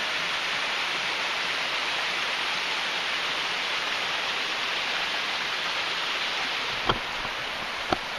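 A woodland creek runs beside an old logging road on a winter morning, a steady, broad rushing of flowing water close by, with two faint sharp ticks near the end and no voices.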